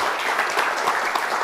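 Audience applause at an Indonesian parliamentary discussion, a dense, steady wash of many hands clapping close by, continuous for the whole stretch with no voices over it.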